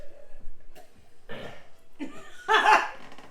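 A person clears their throat during an online church discussion, giving a few rough, throaty bursts that build to a louder, harsher one near the end, close and alone without speech.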